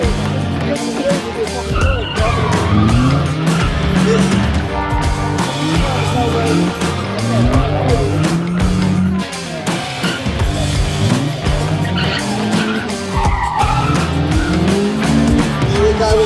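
Kit cars race toward the finish line at a national kit car show, engines revving loudly and repeatedly through gear changes, with tyre squeal and passing cars throughout.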